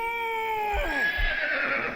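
A horse whinnies loudly for about two seconds, a strong high call that wavers and then breaks into a rougher, falling neigh, close and alone with no talking.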